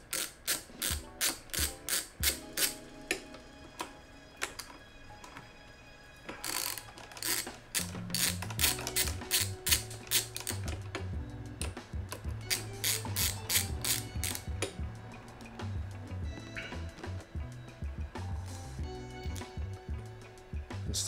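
Handlebar clamp bolts being loosened on a Kawasaki KLX140 dirt bike, heard as a long run of quick ratchet clicks, rapid and close at first, then busier mechanical clicking and clanking continuing throughout, with no voices.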